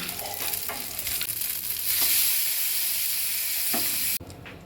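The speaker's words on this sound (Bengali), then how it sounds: "মশলাটা আমার ভাজা হয়ে গেছে, ওর মধ্যে আমি জল দিয়ে দিয়েছি ছিটকাচ্ছিল বলে" Cumin, coriander, whole black peppercorns, cashews and poppy seeds fry together in a pan with a steady, close, bright sizzle and occasional stirring scrapes. Near the end the sizzle abruptly drops to a quieter, softer bubbling.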